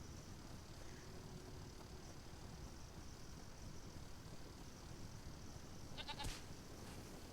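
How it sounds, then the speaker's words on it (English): Goats bleating in the video game Conan Exiles, a short burst of faint bleats near the end over a steady wind-like ambient bed at night in an icy mountain area. "I'm gonna ignore the goats for now."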